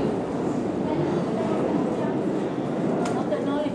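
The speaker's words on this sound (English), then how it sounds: "We're going in the train." A subway train rolls along with a loud, constant rumble and hiss from inside the car, with voices mixed into the noise.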